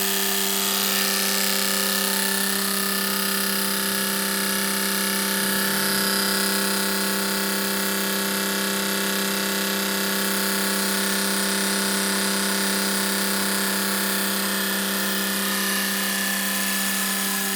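Fuel injector on a flow test bench running its high-speed test, a loud, steady, even whine and buzz that holds without a break from start to finish.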